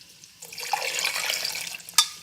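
Water poured into a blender jar over tomatoes, chiles, garlic and a piece of onion, a brief splashing gush that swells and trails off, ending with a sharp clink.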